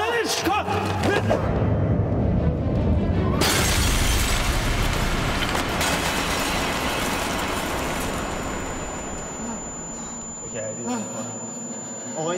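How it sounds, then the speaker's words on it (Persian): Glass shatters in a scene from a Persian comedy series, a sudden loud crash that spreads into a long wash of noise, with voices heard around it. "شیشه خورده ریخته"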